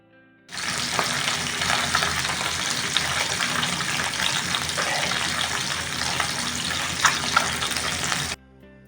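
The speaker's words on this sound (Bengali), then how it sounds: "তেলকে বেশ ভালো মতন ধোঁয়া ওঠা গরম করে নিয়েছি এখন এর মধ্যে দিয়ে দেবো একে একে নুন হলুদ মাখিয়ে রাখা মাছ" Fish coated in salt and turmeric is frying in smoking-hot mustard oil, giving a loud, steady, close sizzle and crackle that continues unbroken for about eight seconds with occasional sharper pops.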